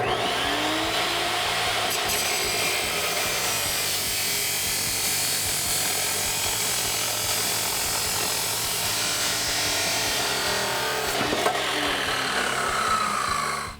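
A saw grinds steadily through a Ford F150 exhaust pipe at a marked length, a continuous harsh rasping cut that holds an even loudness for the whole stretch before stopping abruptly at the end.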